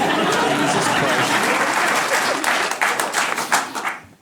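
A recorded applause sound effect played during a podcast, a dense, loud crowd clapping with some cheering that thins into scattered claps and fades out, with voices talking over it.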